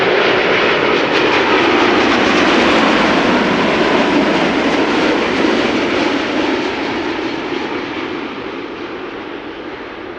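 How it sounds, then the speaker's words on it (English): An American Airlines Boeing 787-8 Dreamliner arriving from Philadelphia roars past at Amsterdam Schiphol, a loud, close broadband engine rush that holds steady and then gradually fades toward the end. "This is American Airlines flight 204 arriving from Philadelphia. 7878 Dreamliner."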